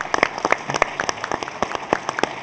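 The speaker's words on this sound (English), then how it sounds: "So I'd like to give you guys a round of applause." A small group at the World Dairy Expo claps in a short burst of scattered, distinct hand claps, close and fairly sparse, with no voices.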